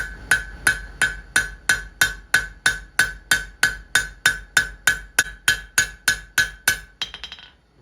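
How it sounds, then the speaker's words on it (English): Rounding hammer's round die strikes a steel bar over the anvil horn while forging a fire poker: about twenty evenly spaced, ringing metallic blows in a steady rhythm, close and loud, ending in a few lighter taps. "Use the round die of my rounding hammer."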